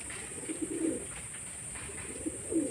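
Madras pigeons coo softly nearby in two short, throaty bursts separated by a pause, over a faint constant high hum.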